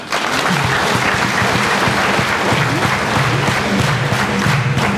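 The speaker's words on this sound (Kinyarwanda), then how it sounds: "umuhe Imana amashyi" Loud, sustained applause from a large congregation at a prayer gathering, dense steady clapping filling the whole stretch with a faint crowd murmur underneath.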